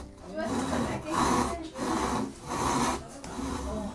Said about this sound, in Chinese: 这样轻轻的拉动，